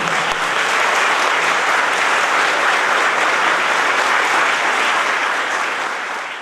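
A church congregation applauds with a bishop during a service: dense, steady, loud clapping that fills the whole stretch without break and only eases slightly at the end.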